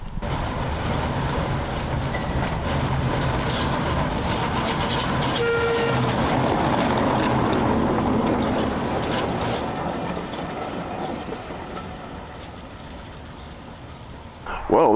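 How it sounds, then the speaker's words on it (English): A small engine train passes on the Dean Forest Railway, a steady mechanical rumble and clatter that builds and then fades over several seconds, with a brief whistle-like tone partway through, heard from trackside. "What a lovely dinky little engine that was."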